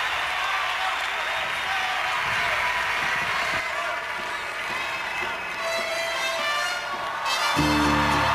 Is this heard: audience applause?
yes